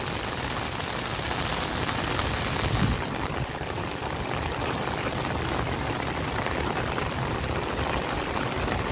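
Steady rain falls over an open park area at Luneta, a dense, even hiss of drops on the ground lasting throughout with no pauses.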